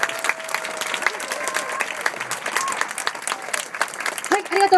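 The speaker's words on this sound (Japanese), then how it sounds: "さあどうぞ大きな拍手を送ってください" Audience applause at the 2015 FIM Trial World Championship Round 1 awards ceremony, sustained clapping throughout with an announcer's voice over it and a brief whistle-like tone.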